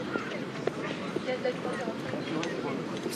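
A racehorse is paraded at a French racecourse, its hooves giving a few light, irregular clip-clops in the background while a commentator talks over them.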